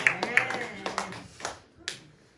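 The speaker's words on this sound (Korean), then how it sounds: "저 유아실에 아이들이 웬 박수요?" During a church service, a few scattered hand claps ring out in a small, echoing room, quick at first and then dwindling to isolated, faint claps that fade away.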